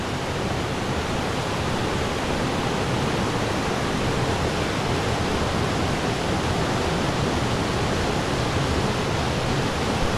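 Continuous dense roar of the La Jaiba waterfall at a blue swimming hole in the mountains, steady and close with no pauses.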